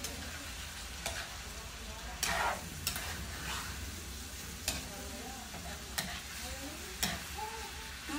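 Food stir-fries in a pan after soy sauce and a little ground black pepper go in, a soft sizzle with repeated scraping stirs and clicks of a utensil, fairly quiet and close.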